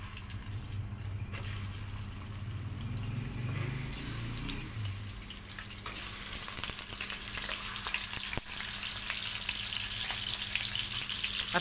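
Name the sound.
chicken frying in ghee in a pot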